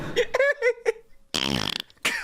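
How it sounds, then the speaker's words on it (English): A single fart, a sputtering, pulsing blast after a brief pause, comes just after a short burst of voiced vocal sounds, with another vocal sound trailing at the end. "I want you to fart for me."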